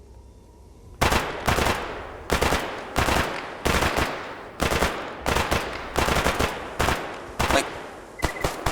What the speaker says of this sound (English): they're firing at us! There's some armed ones behind the bush.